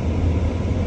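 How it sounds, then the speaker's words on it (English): Steady broadband whoosh of a car's air conditioner blowing inside the cabin on a hot day, a constant close hiss and rumble with no talk over it. "sorry about the noise because it's the aircon on"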